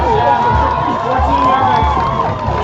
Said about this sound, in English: you can certainly hear the crowd